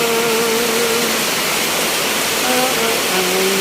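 Floodwater rushes in a steady, loud roar during heavy rain, with a faint engine hum appearing briefly beneath the constant wash of water.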